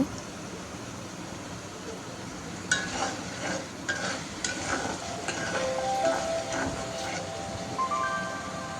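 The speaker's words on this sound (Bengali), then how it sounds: "তো মশলা দিয়ে মশলাটা কষিয়ে নিচ্ছি," Spices are fried and stirred in a pan, giving a soft sizzle that grows busier with scraping and stirring clatters about a third of the way in, over faint tonal background sound.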